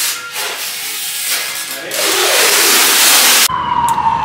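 A siren wails from outside a home during packing for a move, rising steadily and loud for a few seconds before cutting off abruptly.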